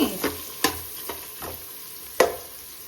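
Fried onions being stirred in a hot pan for egg pulao, with a handful of sharp spoon scrapes and knocks over a soft, steady sizzle, close and alone with no talking.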